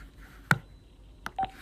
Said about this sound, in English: you probably just heard the phone beep because I just got off the phone with Logan Purcell